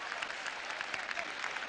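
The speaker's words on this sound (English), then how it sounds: "Very merited applause for centre forward Matato" A stadium crowd at Anfield applauds a goal by the centre forward, a steady wash of dense clapping and cheering that carries evenly throughout.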